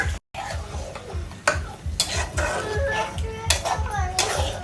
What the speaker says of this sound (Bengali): এখন এর মধ্যে দিয়ে দেবো ফ্যাপসা আর কলিজা একসাথে কষায় নেব।